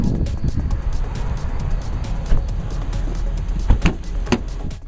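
A 2011 Infiniti G37x coupe on the road, with steady low engine and tyre rumble throughout, close and fairly loud, a few thumps and bumps near the end, and faint talk underneath.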